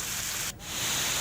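Heavy, steady rain falling in Chhattisgarh, a continuous broadband hiss that is fairly loud and close, with a brief dip in the middle before the downpour noise resumes. No one talks.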